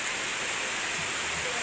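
Steady rain pours down around a construction site where concrete posts are being formed with plywood, a dense, even hiss of falling water holding constant throughout with no voices.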